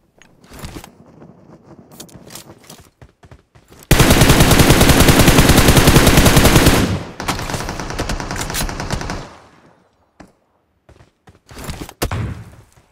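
Gunfire in PUBG Mobile played on an iPad M2: scattered single shots, then a loud continuous burst of automatic fire lasting about three seconds, followed by a quieter rapid stretch and a few late sporadic shots.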